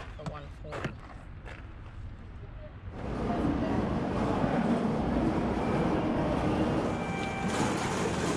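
A train rumbles steadily after a quieter start, a broad continuous roar of rail noise, with voices talking at the beginning, in Japan.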